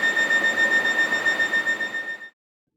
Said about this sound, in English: The captain entered the emergency access code, triggering a 15-second buzzer.